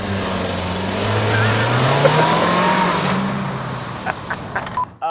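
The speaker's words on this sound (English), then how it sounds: "So I'm gonna find a parking lot and we are going to test out the 4Motion Taos" A Volkswagen Taos 4Motion launches hard from a standstill in a parking lot, its engine roaring up through rising revs over tire and road noise, then fading as a few brief knocks follow.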